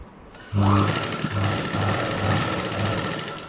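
A sewing machine runs steadily while stitching a blouse, kicking in suddenly after a quiet start and holding a continuous buzzing drone with a pulsing rhythm close by.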